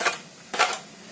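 A hotel vegetable cutting machine slicing capsicum gives two quick, crisp mechanical chopping bursts about half a second apart, close and clear with quiet between them.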